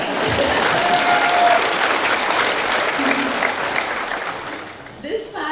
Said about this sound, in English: you can clap. Go